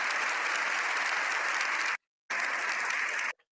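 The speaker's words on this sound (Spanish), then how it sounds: "el Papa recibió una ovación de 7 minutos" Dense, sustained applause from a large crowd giving the Pope a standing ovation after his speech, steady and loud, broken by a brief cut of silence before resuming.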